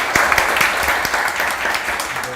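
Audience applause at a political party members' forum, many hands clapping together in a dense, steady wash with a few louder claps up front.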